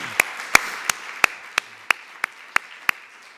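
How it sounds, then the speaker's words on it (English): Hands clapping at an event recognizing students, about ten sharp, evenly spaced claps close by, with a quiet background between them. "they deserve a round of applause"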